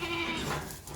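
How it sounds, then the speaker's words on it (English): A male goat in a barn gives a short, faint bleat, one brief call lasting under a second. "Andre, the male goat who's up right there, has been"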